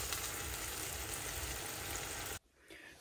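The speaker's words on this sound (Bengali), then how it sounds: "আরও কিছু মশলা, গরম মশলা সব কিছু একটু একটু দিয়ে এখন এটা ভেজে নিচ্ছি।" Spices and garam masala fry in a pan with a steady, close sizzle that cuts off abruptly near the end, leaving near-silence.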